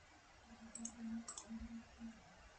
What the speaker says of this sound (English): So you just need to right click, run as a Java application.